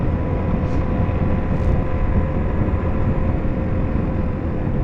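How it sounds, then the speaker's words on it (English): A Suzuki DR-Z4S dirt bike engine drones steadily while riding, a constant low rumble mixed with wind rush, even and unbroken throughout with no talking. "this big banana yellow dirt bike"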